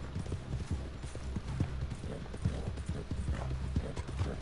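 Horse hooves galloping in the video game Red Dead Online, a steady rapid clip-clop rhythm, fairly close and continuous, with game background sound and no talk.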